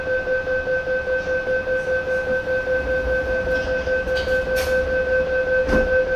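Door-closing warning chimes on a Sydney Metro Alstom Metropolis driverless train departing Chatswood station: two steady pure tones sounding continuously with a faint pulsing rhythm over low rumble, a brief clunk near the end.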